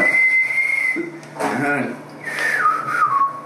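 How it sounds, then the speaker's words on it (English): Someone whistles the Bridge on the River Kwai theme nearby, clear sustained notes gliding up and down, with a brief word spoken partway through. "He's whistling."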